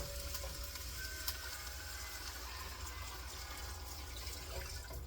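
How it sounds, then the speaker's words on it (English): Chicken broth being poured into a pot of creamy asparagus soup on the stove, a steady, quiet liquid pour with faint sizzling, no talking. "I have right about 6 cups of chicken broth that you just go ahead and pour in."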